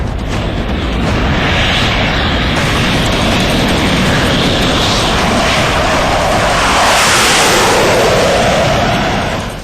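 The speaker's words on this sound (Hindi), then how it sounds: "ये है रूस से मिला वो सुखोई 30 जिसे दुनिया का बेहतरीन फाइटर जेट माना जाता है" A Sukhoi Su-30 fighter jet flies overhead with a loud, sustained roaring engine rush that swells toward the end as it passes close, with no voices over it.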